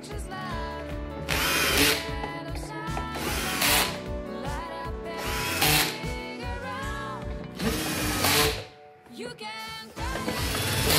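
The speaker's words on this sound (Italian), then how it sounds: "per riavvitare le viti, se state utilizzando un trapano avvitatore" A cordless drill driver on a low clutch setting whirs in repeated short bursts, pausing between each run, loud and close, as screws are driven into a Folletto VK 140/150 vacuum.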